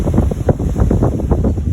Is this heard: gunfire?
no